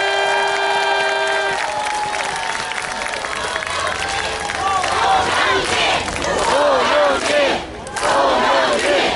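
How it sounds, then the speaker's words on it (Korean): Crowd at an outdoor presidential election rally at Gwanghwamun in Seoul cheering, shouting and applauding, loud and swelling over several seconds as music fades out, with voices yelling through the roar. "뜨거운 박수로 맞아주십시오"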